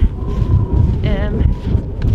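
Strong wind buffets the microphone outdoors beside a small blue hut in a cold Arctic setting, a steady low roar throughout with someone speaking over it.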